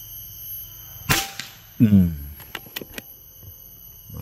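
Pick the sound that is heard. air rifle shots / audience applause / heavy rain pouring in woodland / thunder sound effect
air rifle shots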